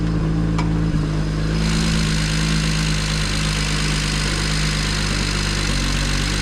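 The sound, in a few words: modified BMW 335is engine idling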